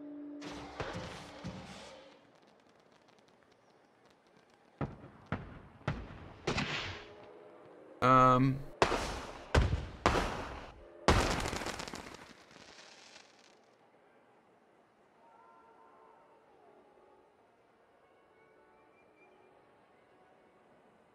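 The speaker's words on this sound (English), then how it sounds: "shorter fireworks shows would definitely be easier" Fireworks display in the Planet Coaster video game: a series of sharp bursts and booms, scattered at first and then packed together in the middle, fading to quiet afterward, with no voices over them.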